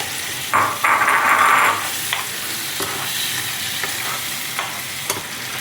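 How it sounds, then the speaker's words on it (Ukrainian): Crab sizzles steadily in a hot pan while a utensil scrapes and stirs it, with a louder burst of frying near the start and occasional clinks. "перевертати, щоб він скрізь рівномірно прожарився"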